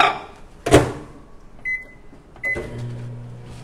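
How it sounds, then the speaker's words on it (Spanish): A microwave oven warms a spoonful of butter and milk for a banana chocolate cake: a loud clunk of the door, then short electronic beeps and the low hum of the oven starting up. "Voy a ponerlo al microondas."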